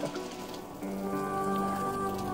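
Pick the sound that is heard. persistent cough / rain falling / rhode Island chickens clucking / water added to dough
rain falling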